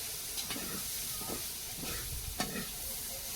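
Food fries in a pan in a home kitchen in the Sundarbans, a steady broadband hiss and sizzle with a few soft stirring scrapes and crackles, close and unbroken, with no talk.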